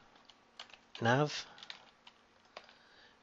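Quiet clicks from typing on a computer keyboard are scattered through a short stretch, and a voice briefly speaks over them.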